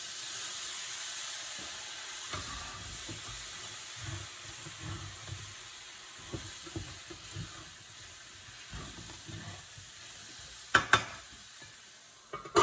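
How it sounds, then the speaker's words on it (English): Zucchini with dill sizzles steadily in a hot pan while being stirred, a constant close frying hiss broken by soft scraping strokes, with a few sharper clatters near the end. "So we'll just stir that up."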